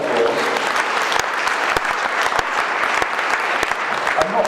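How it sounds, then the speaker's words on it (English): Audience giving a guest a big round of applause: sustained dense clapping from a crowd, loud and steady, with a few sharper individual claps standing out. "Let's give him a big round of applause."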